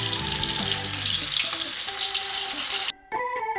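Fish dropped into hot oil in a pan gives a loud, continuous sizzling hiss that cuts off abruptly near the end, followed briefly by softer tonal sounds.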